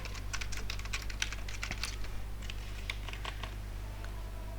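Fingers type on a computer keyboard while entering form data, a fast irregular run of light key clicks close up over a constant electrical hum, without speech.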